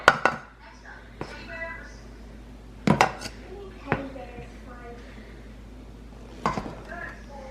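Bread dough of foamy yeast mixture and flour, about eight cups, being mixed in a bowl: sharp utensil clanks and scrapes against the bowl at irregular moments, with faint voice traces in between.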